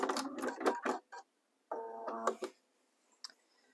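Sewing machine stitching down the side of fabric in two short bursts of rapid mechanical whirring and clicking, close and clear, separated by a pause, with faint clicks afterward.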